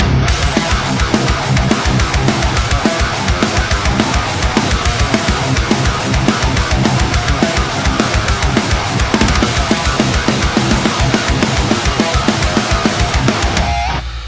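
Double-tracked electric guitar recorded for a cover song plays a dense, driving rhythm part. It runs loud and continuous, with steady percussive attacks through to the end and no talking.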